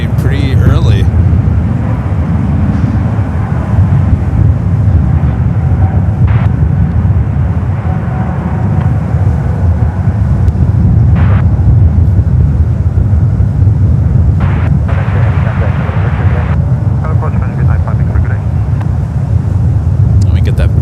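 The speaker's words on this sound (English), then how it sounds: "Another Paris-bound flight rotating pretty early." A Paris-bound airliner rotates and climbs away from SFO airport, its engines a loud, steady low roar that fills the whole stretch, with wind buffeting the microphone and a faint voice now and then.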